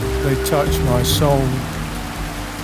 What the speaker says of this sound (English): drops pound my head, run down my back in this solid, monotonous rain.